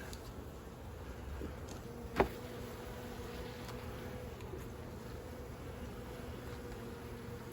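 Honey bees buzz around an open hive in spring, making a faint, steady drone with a single soft click partway through and no voices.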